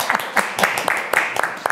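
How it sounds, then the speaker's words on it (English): Scattered hand clapping from a small group at a ceremony for an academic chair award, light and uneven bursts of claps close by, with some speech-like murmur mixed in. "Let us applause."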